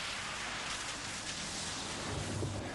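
An artificial downpour in a rain test facility pours over a 1980 Audi Coupe, making a dense, continuous roar of drumming water with no voices.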